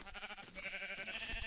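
Sheep bleating in the Minecraft video game, a run of repeated wavering bleats close and fairly loud, with a short gap before a longer sustained bleat.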